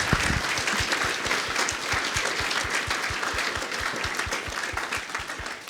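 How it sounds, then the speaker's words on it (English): Audience at a climate citizens' assembly in a main hall giving a sustained round of applause, dense steady clapping with a few sharper claps up front, loud and continuous throughout. "Can we give Chris and Rebecca a huge round of applause?"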